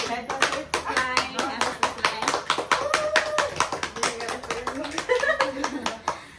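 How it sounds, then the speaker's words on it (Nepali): Rapid, steady hand clapping from a small group at a cake cutting during a farewell gathering among friends, with voices talking and a voice over the claps. "ल ताली बजाऊ ताली"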